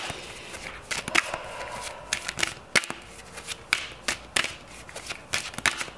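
A deck of advice cards is shuffled by hand: a rapid run of crisp riffling and slapping card sounds, close and fairly quiet, with short irregular bursts throughout and no talking.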